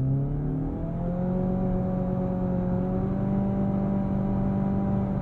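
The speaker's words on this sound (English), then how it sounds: "I'm going to give it a brake boost off the line to build up some of that boost in the turbocharger and see how we do." A turbocharged 2023 Nissan Altima SR pulls hard from a standstill, its engine note climbing steadily and smoothly as it accelerates, moderately loud with a constant hum of road and tire noise underneath.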